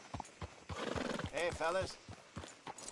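Horse hooves clip-clop and a horse whinnies in Red Dead Redemption 2, near and fairly loud, with a man's brief greeting spoken over the horse sounds.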